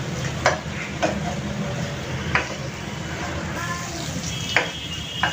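Ginger garlic paste fries steadily in a pan for beef haleem, a continuous low sizzle broken by a few sharp scraping stirs and light taps of the spoon, close and even throughout.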